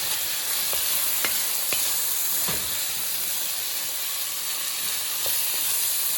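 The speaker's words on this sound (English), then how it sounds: "Now we're gonna cook rice for a couple minutes." Rinsed rice toasting in a hot pan for cilantro lime rice, a steady bright sizzle with a few scattered clicks and scrapes from stirring, close and constant with no voices.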